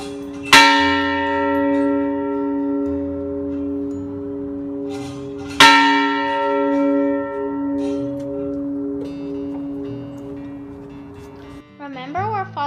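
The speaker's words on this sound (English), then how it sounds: "These are the mission's bells" Mission church bells at San Diego ring out in two strong strikes, each leaving a long, humming resonance that slowly fades, with a few faint voices murmuring in the background.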